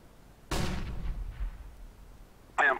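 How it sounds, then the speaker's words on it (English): A flashbang grenade in Counter-Strike: Global Offensive: a sudden loud burst that decays over about a second, then a short sharp sound near the end, no speech. "Throwing a flashbang."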